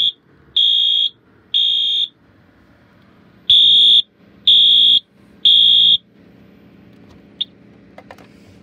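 Fire alarm under test blaring loud high-pitched electronic beeps, two then three evenly spaced bursts after an opening chirp, close and piercing, followed by faint handling clicks.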